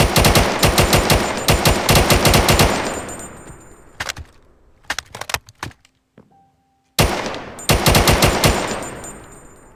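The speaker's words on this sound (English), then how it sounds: "It's such a nice gun to shoot." Automatic fire from a modded gun in Minecraft Bedrock. Rapid, loud bursts open the sequence, a few scattered single shots and a brief silence follow, and then another fast burst of fire arrives.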